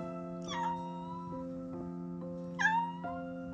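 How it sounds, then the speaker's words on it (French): A cat meows from inside a house roof, two drawn-out wavering meows a couple of seconds apart, faint against a steady tonal hum. "il y a un chat qui miaule dans mon toit"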